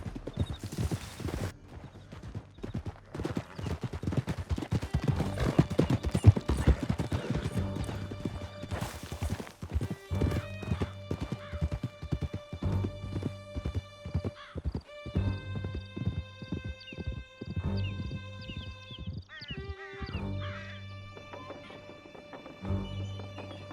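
Horse hooves clip-clop in fast galloping rhythm through a canyon in Red Dead Redemption 2, steady and close for most of the stretch, with occasional whinnies and thunks, then the beat loosens and slows toward the end.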